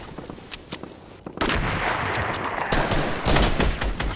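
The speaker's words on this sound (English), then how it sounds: "Dude, you both are shooting at me." Fortnite gunfire: scattered single shots at first, then a sudden loud burst of rapid overlapping shots and blasts that keeps going to the end.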